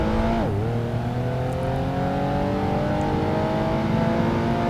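Race car engine in Project Gotham Racing 2 drones loud and steady, dipping sharply in pitch as it brakes early on, then climbing slowly and continuously under acceleration with no talk.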